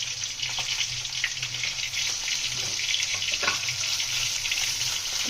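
Masala with garlic and ginger paste and softened onions fries in a pan for katla fish kaliya, giving a steady, close, bright sizzle with faint stirring taps and no talking.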